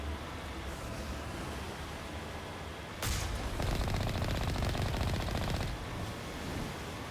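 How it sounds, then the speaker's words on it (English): Artillery fire in the Mass Effect video game, heard as a sudden burst of rapid, rattling booms that hammer on for a few seconds over a constant background rumble, then fade back to ambience. "There's the artillery, Shepard."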